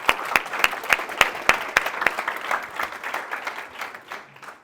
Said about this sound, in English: Everyone give Laura a round of applause.